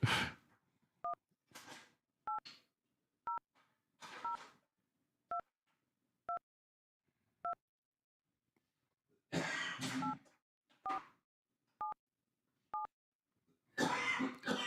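A phone keypad dials a toll-free tip-line number, ten clear DTMF tone beeps spaced about a second apart with brief muffled handling bursts between some of them and no talking.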